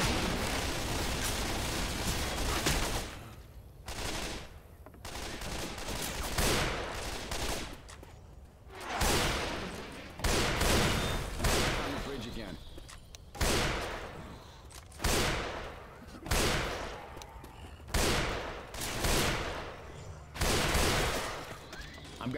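Bursts of rapid gunfire in the zombie shooter Left 4 Dead 2, repeated volleys of loud shots separated by brief pauses, continuing steadily over twenty seconds.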